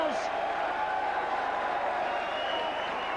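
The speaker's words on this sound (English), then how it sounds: "That's the best cheer we've had this afternoon, my word, bar none" A rugby league crowd at a St Helens versus Oldham match roars and applauds in a dense, sustained wash of cheering and clapping with a commentator talking over it.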